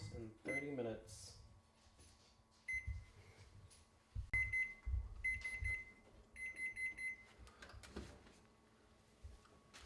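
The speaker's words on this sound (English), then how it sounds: "Now that our timer's up, we're going to check if it is done." A kitchen cooking timer for a roasting turkey goes off, sounding several short repeated electronic beep bursts amid clattering kitchen noises, fairly close and clear.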